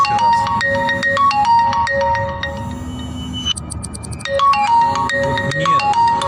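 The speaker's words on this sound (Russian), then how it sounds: "Вот мне звонят" A mobile phone ringtone sounds for an incoming call, a loud, close melodic pattern that repeats steadily for several seconds with no one talking over it.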